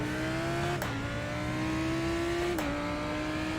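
A Lamborghini Huracan GT3 EVO races a lap of Brands Hatch in the iRacing simulator, its engine droning loud and steady at high revs, with two quick upshifts that briefly drop the pitch.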